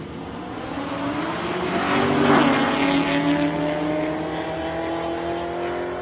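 A Holden Torana and an XE Falcon launch off the line in a street drag race, engines roaring up loud and sweeping past, then fading into a steady distant drone.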